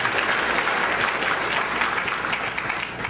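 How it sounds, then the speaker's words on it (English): Comedy club audience bursting into steady applause, a dense wash of many hands clapping at full volume for about three seconds, with no talking over it. "give yourselves a round of applause for coming out"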